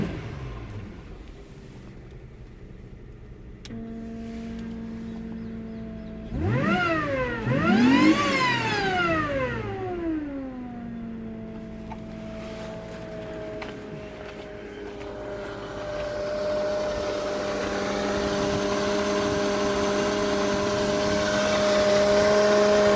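A supercharged Ford Probe V6 24-valve KL-DE engine revs up sharply, then settles into a steady idle with a constant supercharger whine, close by.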